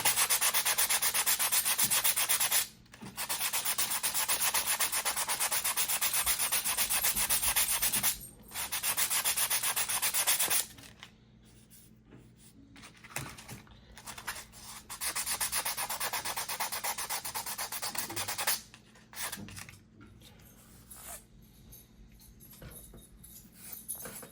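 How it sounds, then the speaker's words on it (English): Fine-grit sandpaper rubbing across wooden deck planks, steady hand-sanding strokes in long bursts broken by short pauses, close and fairly loud. "You don't need a very aggressive grit on it. Yeah, it's getting nice and smooth."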